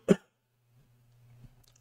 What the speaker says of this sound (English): I have a bit of cold, so that's why I'm coughing.